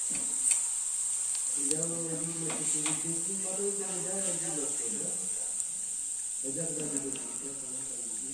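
Food fries in hot oil with a constant high sizzling hiss throughout, while a person talks over it for most of the time.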